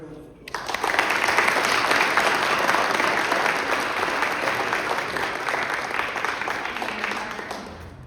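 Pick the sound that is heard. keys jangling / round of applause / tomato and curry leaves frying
round of applause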